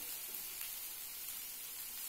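Sesame seeds toasting in a pan for a gram-flour okra fry give off a faint, steady, even sizzle that runs unbroken for about two seconds, with no voices.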